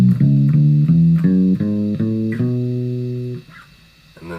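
Bass guitar playing a major scale starting from its second note, eight distinct plucked notes stepping along at an even pace, the last one held and decaying, close and clear with no talking.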